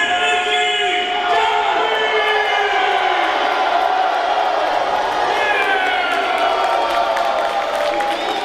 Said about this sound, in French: La foule en délire, la foule qui acclame leur champion.